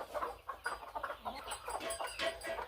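Native desi hens in a village brooding setup cluck repeatedly, a busy, fairly close chorus of short calls from several birds over a faint low hum.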